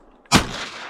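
A single sharp shotgun blast fires nearby during a youth duck hunt in Minnesota, a sudden loud crack followed by a brief fading reverberation.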